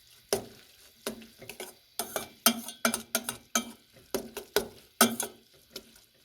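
Spicy Korean noodles are stirred in a pan with quick, repeated scraping strokes in an uneven rhythm, each stroke a close, crisp burst over a quiet background sizzle, with no speech.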